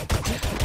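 Counter-Strike gunfire in rapid, close, loud bursts of several quick shots over a fraction of a second, with no talking.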